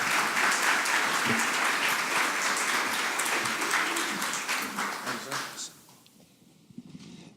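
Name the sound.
audience applause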